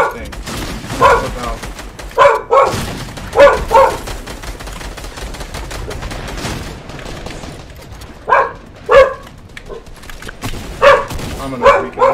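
Precious the dog barks in short, sharp clusters of two or three close, loud woofs, pausing in between and repeating several times.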